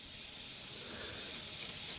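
A Badger Xtreme Patriot 105 airbrush spraying water gives a steady, close, breathy hiss for about two seconds, cutting off abruptly at the end.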